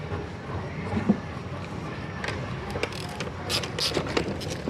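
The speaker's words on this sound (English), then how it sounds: "we have to screw and push some more, because this one's still holding" A fuse box on a Chevy Impala being unscrewed: sparse, faint ratcheting clicks and small mechanical scrapes scattered over a steady hiss of background noise, with no talking.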